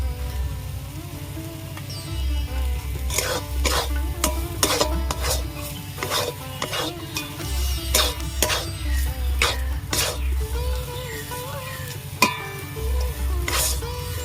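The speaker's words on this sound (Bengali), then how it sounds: "আলু ভালো করে কষিয়ে নিয়েছি" A spoon stirs a potato mixture frying in a pan for fish chops, giving a run of rhythmic scraping and tapping strokes over a low sizzle, close and moderately quiet, with no speech.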